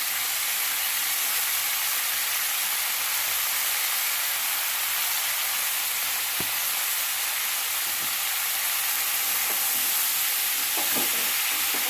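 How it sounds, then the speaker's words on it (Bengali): Onions and green chillies fry in a hot pan with a steady, close sizzling hiss. A few faint clinks of stirring come through, and no one speaks. "এবার আমি পেঁয়াজটাকে ভাজতে থাকবো।"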